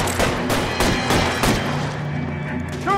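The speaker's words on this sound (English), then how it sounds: "Shoot those guns, Bishop!" Gunfire in the video game L.A. Noire, a quick series of loud close shots with sharp cracks and booming thuds, ending in a brief rattle.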